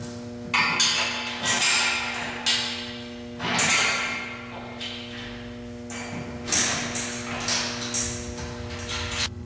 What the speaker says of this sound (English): we can go ahead and install the rear bumper.